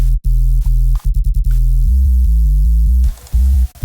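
A deep synthesized brostep sub bass steps through a repeating pattern of held low notes, punctuated by sharp percussive hits, loud and steady with no voices.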